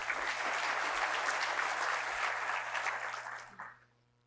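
Audience clapping at a San Marcos Chamber of Commerce State of the City address: sustained dense applause from a crowd that fades out near the end, with no voices.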